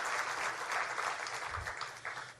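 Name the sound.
audience applause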